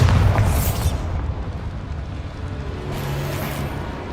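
Spell explosions from the Confringo and Bombarda curses in Hogwarts Legacy on PS5 go off inside a small mine: a heavy boom with a long rumbling tail, then a second, softer burst a few seconds later.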